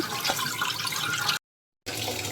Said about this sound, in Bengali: পরিষ্কার করে ধুয়ে নিচ্ছি লাউ পাতাগুলো